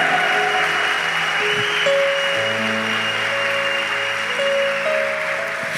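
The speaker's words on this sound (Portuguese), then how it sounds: "Aplaude mais forte o Senhor." Church congregation clapping steadily throughout, a dense continuous wash of applause with sustained music tones running underneath.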